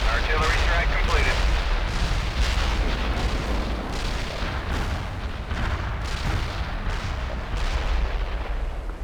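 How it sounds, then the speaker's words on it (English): An artillery barrage in World in Conflict rumbles as a dense, continuous wall of heavy booms and explosions, rolling and overlapping without pause, loud and close throughout. "Artillery barrage in for full effect."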